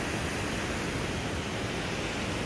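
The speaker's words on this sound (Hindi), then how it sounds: "एक ही गेट खुला है जो वहाँ से निकल रहा है पानी" Water gushes from a single open dam gate in a steady, dense roar of rushing flow, constant and fairly distant, with no voices over it.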